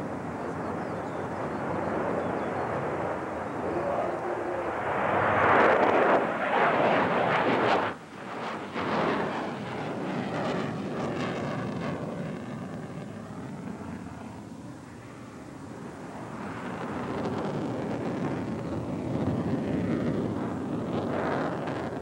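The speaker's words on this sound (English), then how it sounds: "the Su-27 is incredibly maneuverable" A Sukhoi Su-27 fighter jet flies past with a loud, continuous engine roar that swells and fades, with a brief dip partway through and wind buffeting.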